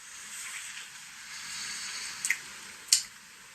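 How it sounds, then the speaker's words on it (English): Sparse water drips fall inside a wrecked cantina in a video game, a few soft isolated plinks over a faint background hiss. "It's been dripping water for 30 years, I guess."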